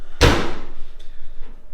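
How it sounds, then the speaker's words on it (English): A Datsun 280Z door shuts with one solid, close thud, followed by a faint latch click and a quiet tail. "So the door closes good,"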